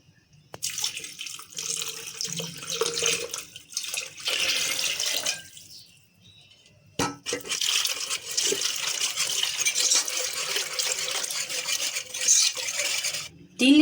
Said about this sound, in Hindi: इसके अंदर पानी डालेंगे हम।